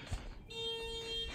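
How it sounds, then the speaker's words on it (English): Car alarm going off beside a turbocharged Chevrolet Cavalier, a steady electronic tone with sharp harmonic lines holding for about a second after a brief low thump, loud and near. "We got a goddamn Mitch setting off his car alarm here."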